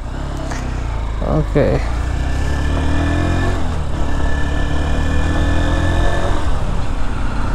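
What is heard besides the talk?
Honda Hornet 2.0 motorcycle engine riding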